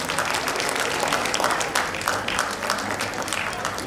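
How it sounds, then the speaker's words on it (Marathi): A large audience at an annual day celebration gives sustained, loud applause, dense clapping that fills the whole stretch at a steady level. "जोरदार टाळ्या."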